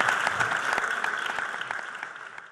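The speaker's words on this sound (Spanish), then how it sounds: "yo quiero un aplauso para Antonio" An audience claps steadily and close at hand in a brief burst of applause at an arts event, dense and even throughout, fading slightly toward the end.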